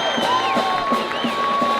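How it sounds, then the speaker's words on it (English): Pink-clad home crowd cheering at a Thursday night boys varsity high school football game, Redondo Union versus North Torrance, a steady roar of voices with scattered whoops and shouts, loud and continuous throughout. "This pinked out crowd is hyped"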